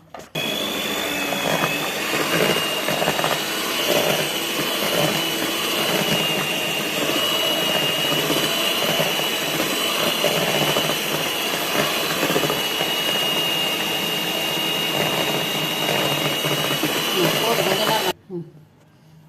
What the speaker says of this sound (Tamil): இதையும் போட்டுட்டு நல்லா நம்ம பீட் பண்ணணும்